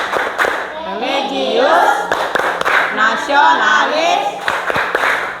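A class of sixth-grade elementary pupils chants the Tepuk PPK routine in unison, punctuated by sharp rhythmic hand claps between the spoken lines, loud and close in a classroom.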